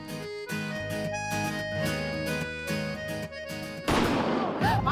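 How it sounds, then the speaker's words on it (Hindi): Music with sustained tones plays, then a burst of crackling, popping firecracker explosions bursts in loudly near the end, during Holi. "ये होली में पटाखों की आवाज कहाँ से आई?"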